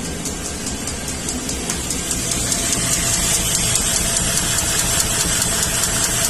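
A 2000 Chevrolet 2500 6.0 V8 with a misfire idles roughly with one spark plug disabled, giving a steady loud rumble with an uneven pulsing beat throughout, close to the engine and alone.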